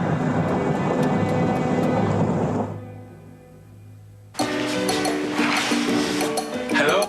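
Thunder rolls as a loud, broad rumble that fades into a brief lull before a second heavy crash bursts in and keeps roaring to the end.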